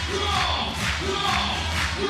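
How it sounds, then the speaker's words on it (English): Crowd cheering at a FIBA 3x3 Basketball World Cup 2022 game with home favourite Belgium playing: a dense, sustained roar of voices with rhythmic chant-like swells repeating through it. "The crowd is in it."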